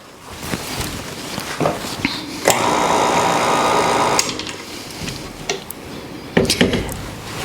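Stand mixer fitted with a paddle attachment beating macaron batter: a steady motor whir runs for about two seconds in the middle, framed by scattered clanks, taps and handling noises nearby.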